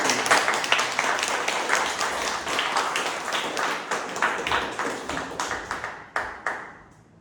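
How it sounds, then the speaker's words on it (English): An audience at a Toastmasters meeting claps steadily for several seconds, a dense patter of hands that thins into a few scattered claps before fading out. "Let's clap for Toastmaster."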